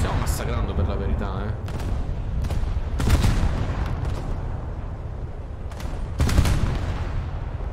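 Heavy cannon fire from the American cruiser USS Alaska in War Thunder: several loud, booming salvos at irregular intervals over a rumbling naval battle background, with someone talking over it.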